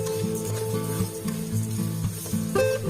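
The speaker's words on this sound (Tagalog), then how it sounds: "Igisa lang natin yung munggo." Mung beans that have not been boiled are sautéed in a pan with a continuous sizzle. There are occasional stirring scrapes, and steady low hum underneath. No voices are heard.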